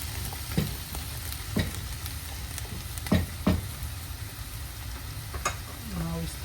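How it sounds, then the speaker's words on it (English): Vegetables and peppers stir-frying in a pan, with a steady sizzle broken by scattered clanks and scrapes of a utensil against the pan, all close and without talk. "Stir fry 3 to 4 minutes these vegetables."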